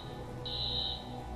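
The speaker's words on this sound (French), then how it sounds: "L'alarme s'est déclenchée." Alarm in the video game Watch Dogs sounds as a steady high electronic tone for about half a second over a low ambient game backdrop, with no talk.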